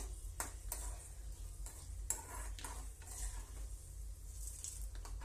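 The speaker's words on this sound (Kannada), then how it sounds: "ಕಡಲೆ ಕಡಲೆಬೇಳೆ ಫ್ರೈ ಆಗ್ತಿದೆ" Chana dal frying in a pan for festival yellow rice, a steady low sizzle with scattered crackles and occasional stirring scrapes, continuous and fairly quiet with no talk.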